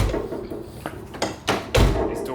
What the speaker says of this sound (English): These doors shut like crap.